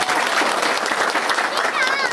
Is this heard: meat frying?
no